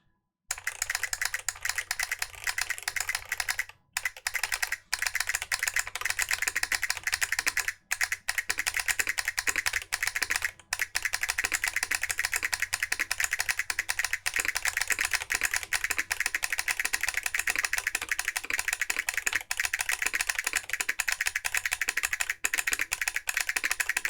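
Fast, continuous keystrokes on a custom mechanical keyboard fitted with a solenoid, each press paired with a sharp mechanical click-clack, rattling close and loud with only a few brief pauses.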